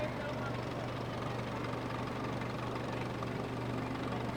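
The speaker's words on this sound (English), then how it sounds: "Here comes a red tractor." A tractor engine rumbles steadily at a fair parade, a continuous low idling drone with a knocking texture and no break across the clip.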